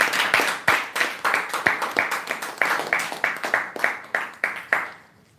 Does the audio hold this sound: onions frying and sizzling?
no